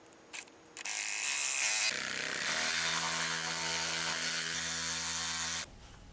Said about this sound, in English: I'm going to use my reciprocating saw to make a cut down the middle of this